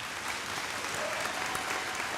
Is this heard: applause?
yes